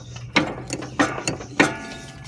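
Craftsman 42-inch lawn tractor mower deck being engaged by hand, giving three distinct sharp metallic ratcheting clicks spaced about a third of a second apart, close and dry with no talking.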